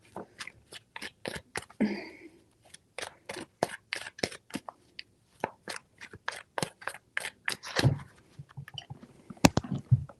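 Tarot cards being shuffled by hand, a rapid series of crisp riffling snaps and slaps up close, with brief pauses between bursts and no talk.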